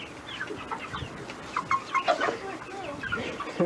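Chickens cluck nearby in short, scattered bursts of varied pitch, with soft background noise between the calls.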